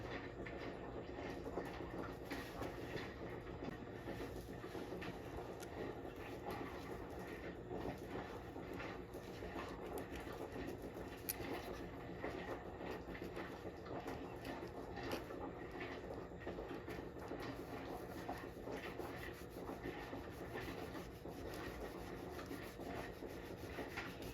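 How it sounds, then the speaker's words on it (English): A file rasps steadily against the edge of a green obsidian pendant, trimming the seam edges flat in continuous close strokes with no talk, a dense scraping texture throughout. "file it down and trim the edges until I get an exact perfect match between the two edges of the seam"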